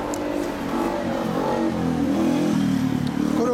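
A 2015 Kawasaki Ninja ZX-14R, Indonesian full-power spec, fitted with an Asahina Racing exhaust, rumbles close by with a steady deep engine note that rises slightly as it revs, without talk.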